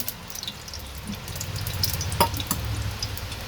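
Oil heating in a home kitchen pan before onions go in for a Marathi ridge gourd bhaji, giving a steady low crackling sizzle with a few sharp pops and drips, close and alone.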